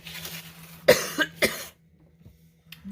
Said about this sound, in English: Not sure why I'm having a coughing fit here